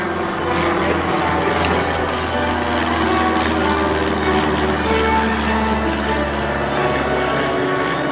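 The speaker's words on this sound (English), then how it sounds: "Is there a plane landing?" A plane comes in to land overhead, a loud steady engine roar with a low droning hum that stays constant throughout, with a voice faintly present beneath it.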